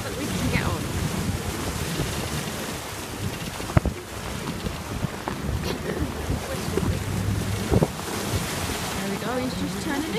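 A tender boat turns in choppy water off Guernsey, with waves slapping and sloshing against the hull under steady, gusting wind noise and a low engine rumble, all heard up close from on deck.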